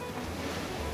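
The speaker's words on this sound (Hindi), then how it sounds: "तो ये पानी की लहरें देखो" Sea waves washing in at Kala Pathar beach on Havelock Island, a steady broadband surf wash close by, mixed with some wind rumble on the microphone, with no voices.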